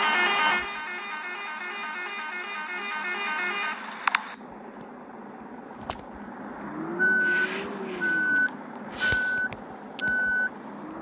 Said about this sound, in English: Let's do a little beep so everybody knows we are going.